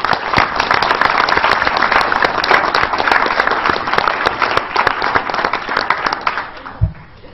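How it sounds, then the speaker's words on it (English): An audience at a university board of regents meeting claps in sustained, dense applause for award winners, loud and even before tapering off near the end. "let's give them another round of applause"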